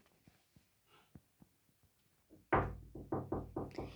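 Knocking on a school door, first a few faint, spaced taps, then a louder, faster series of firm raps close by.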